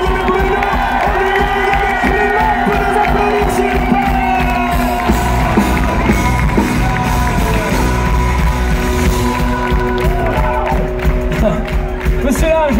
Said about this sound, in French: faire un tonnerre d'applaudissements à le technicien ce soir au son de Bruno